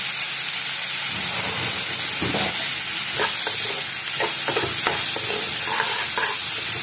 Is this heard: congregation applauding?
no